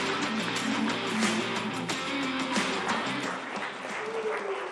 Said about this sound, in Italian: Facciamo un applauso all'Under 14.